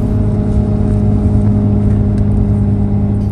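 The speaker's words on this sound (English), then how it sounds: "exhaust brake." Loud, steady low-pitched engine drone with a throaty, rumbling exhaust tone from a 6.7 Cummins diesel truck's exhaust brake, using a Turbonator hybrid VGT turbo, running continuously.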